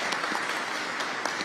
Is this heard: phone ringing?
no